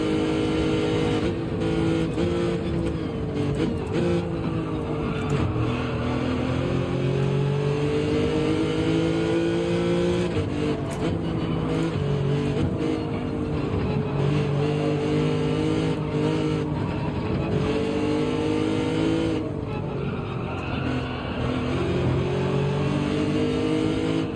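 Race cars at Spa-Francorchamps in a Gran Turismo online race, including Porsche and NSX entries, with loud continuous engine drones rising and falling through gear changes as cars run close together, steady throughout with no talk.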